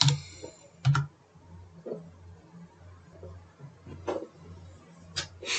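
A computer keyboard types out a .NET run command at a command-line prompt: a handful of scattered, soft key clicks with pauses between them, close and quiet, no talk.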